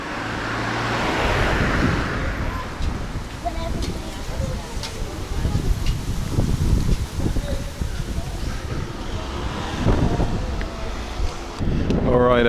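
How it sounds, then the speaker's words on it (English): Strong wind gusting beside a river in Novi Sad, Serbia, roaring and buffeting the microphone steadily, with a passing vehicle and a voice talking at times. "the wind's really picking up now"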